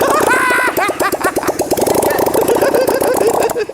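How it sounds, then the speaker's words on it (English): A motorcycle engine running with no exhaust fitted gives a loud, close, bubbling and popping burble whose pulses rise and fall in quick, uneven bursts. "You could get away with riding that with no exhaust, and that would be quieter than most half the bikes out there."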